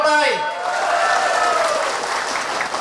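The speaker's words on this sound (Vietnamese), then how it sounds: "Hạng nhất đề nghị một tràng pháo tay." A large crowd applauds a first-place announcement at an outdoor festival event, sustained clapping that swells under a speaker's amplified voice.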